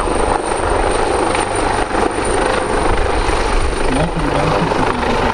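A loud, continuous helicopter rotor thrumming nearby at an air show, with a steady engine whine, holding constant throughout.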